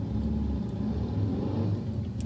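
A car engine with a fault rumbles and revs steadily at a mid pitch, close and continuous, with no talking over it.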